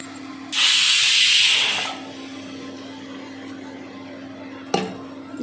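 Water is poured into rice flour in a Goan kitchen, a loud, close rushing splash lasting over a second. A low hum follows, then a single sharp knock near the end.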